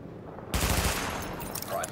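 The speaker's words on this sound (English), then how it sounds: "Open fire at the highlighted targets." A weapon fires at highlighted targets in the video game The Division, a sudden loud burst of rapid shots in quick succession that starts after near silence and then rings out into a reverberant tail.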